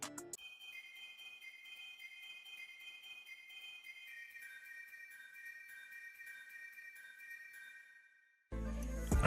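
Arpeggiated synth triads play out as a quiet, bright, tinkling pattern of rapid repeated notes with reverb, steady for several seconds before a louder sound cuts in at the end.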